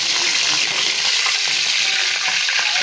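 Fish frying in oil at home, a steady broadband sizzle running loud and unbroken throughout with faint crackles, no talking.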